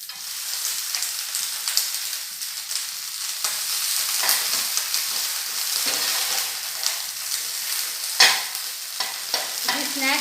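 Paneer stir-fried in a pan with coriander for a Maharashtra-style evening snack, giving a steady close sizzle with scraping stirs throughout and no voices.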